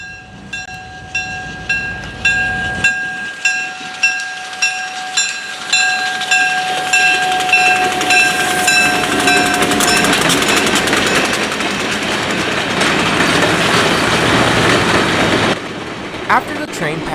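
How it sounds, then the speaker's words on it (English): An excursion train on an Ohio rail line sounds a sustained horn, then rumbles and clatters loudly past close by with rhythmic wheel clicks before the noise cuts off; someone talks over the start. "After the train passed Jeffersonville, Ohio, the train finally picked up speed"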